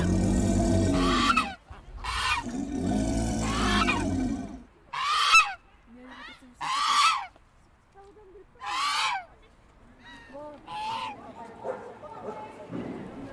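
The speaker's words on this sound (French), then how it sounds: "Vous pourrez reconnaître Les cris des oies" Geese honking at a park pond, loud repeated nasal calls in bursts of varying length, with other fowl calls and some faint background voices between them.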